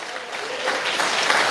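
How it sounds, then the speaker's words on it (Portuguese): Applause from a church congregation during a Portuguese-language sermon on David, a steady broadband wash of many hands clapping that swells slightly and holds loud throughout. "Palmas são louvores ao Senhor Jesus."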